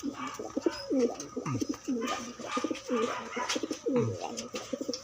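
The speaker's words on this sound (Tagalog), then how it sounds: "Balikan natin yung dalawa natin dito kalapatids. Kalapatids yan." Pigeons, a male and female pair, cooing close by in repeated soft throaty rolling calls that overlap one another, with faint background rustle and no talking.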